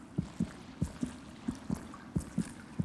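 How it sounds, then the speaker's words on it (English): A heartbeat thumps in Hollow Knight's Glade area, soft paired low thuds repeating in a steady slow rhythm over a quiet background. "There's some, like, heart beating."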